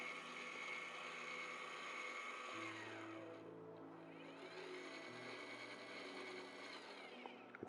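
A Rainbow Astro RST-300 harmonic drive telescope mount motor runs, a very quiet close-miked electric whir with steady tones that shift in pitch as the axes slew, heard alone.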